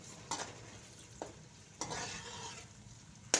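Onions fry in half a cup of oil in a kadhai as a spoon stirs them, giving soft sizzling with a few short scraping strokes, close and quiet, with no voices.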